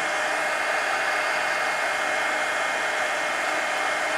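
A hair dryer blows steadily on the back of a mixed media page, a loud, even rushing whoosh held close and unchanging throughout, with no voices.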